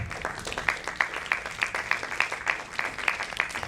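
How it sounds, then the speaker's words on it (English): Conference audience applauding a speaker: a brisk run of close, crisp handclaps with distinct individual claps standing out over a steady bed of clapping, sustained and fairly loud throughout. "A big round of applause for Mr. Arun Kumar."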